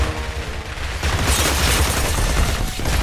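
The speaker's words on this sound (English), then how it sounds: "the player's shooting the hell out of some shelves" Dense gunfire roars through a gas station in the shooter game Blacksite: Area 51 as shelves get shot apart, a continuous loud barrage of overlapping blasts and debris with no pauses.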